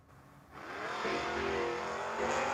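A 1979 Mustang and a 1972 Plymouth Duster at a drag race: an engine builds from a low idle into a loud, sustained roar that holds steady at high revs, close and without talk.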